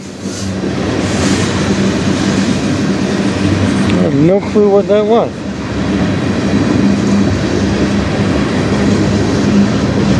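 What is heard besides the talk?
train passing on the Strathroy Subdivision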